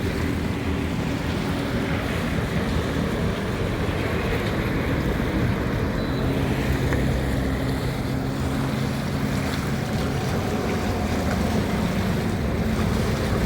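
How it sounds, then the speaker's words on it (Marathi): Continuous loud roar of water gushing from a leak in a 1500 mm water pipeline, steady and close, with a windy rumble and no speech. "मोठ्या प्रमाणात पाईप पाईपातून पाणी वाया जात आहे"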